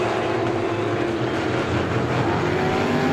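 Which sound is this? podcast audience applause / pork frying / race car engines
race car engines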